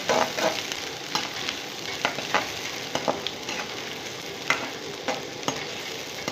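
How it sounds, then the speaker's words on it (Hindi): Onions fry in a pan for dhaba-style dahi chole, a continuous close sizzle broken by sharp, irregular scrapes and clacks of a spatula stirring them toward golden. "प्याज गोल्डन होने तक हमें इसको भूनना है।"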